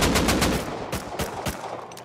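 An AK rifle fires in the video game Rust as a rapid, loud automatic burst of evenly spaced shots that runs the whole two seconds.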